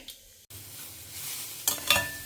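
Carrots sizzle gently in a pan with mustard seeds, urad dal and dried chillies, with soft stirring scrapes and a couple of brighter crackles near the end, close and steady with no talk.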